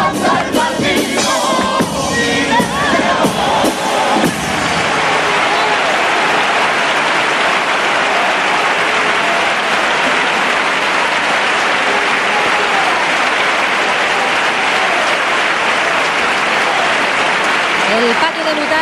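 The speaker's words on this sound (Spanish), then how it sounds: "El patio de butaca que se levanta para aplaudir a esta comparsa" A theatre audience rises and applauds a Cádiz carnival comparsa in a long, loud, dense ovation with crowd cheers, following singing at the start, while an announcer talks over it.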